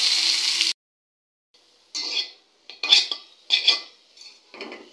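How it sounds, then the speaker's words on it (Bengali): Boiled greens go into a pan of fried onions and get stirred, a burst of clattering metal against the pan followed by silence and then several short, close scraping strokes. "আমার ভাজা ভাজা হয়ে গেছে, এখন দিয়ে দিব সিদ্ধ করে রাখা শাকগুলো"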